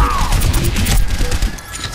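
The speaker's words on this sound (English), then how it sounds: "Rocket barrage incoming." The Overwatch rocket barrage ultimate rains down as a rapid stream of sharp explosive impacts and crashes, loud and close, over a busy game backdrop with a voice briefly under it.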